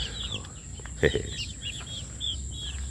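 Young Mitra Speeder chickens in a small flock: soft, high chirps and clucks repeat in short bursts over a steady electrical hum, with one louder thump partway through.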